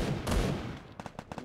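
Video game gunfire: a loud blast followed by a rapid string of five or six sharp, evenly spaced shots, close and alone without talk.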